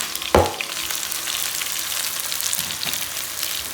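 Sliced courgettes and potatoes go into a hot pan for a curry rice dish, with a sharp sizzle as they land, then a steady, close frying crackle that holds for the rest of the clip.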